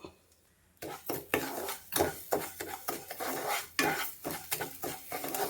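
Sugar, about three spoonfuls, is stirred in a pan over heat as it melts toward caramel; a spoon scrapes and knocks against the metal in steady repeated strokes, close and fairly loud, with a faint sizzle underneath and no talking.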